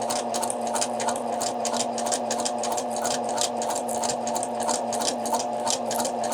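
A sewing machine top stitches a Velcro faux-button closure with a number 2 stitch, running steadily and close with a rapid even chatter of needle strokes throughout.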